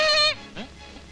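A goat lets out a single loud, close bleat, a sharp wavering cry lasting about a third of a second before fading into quiet background.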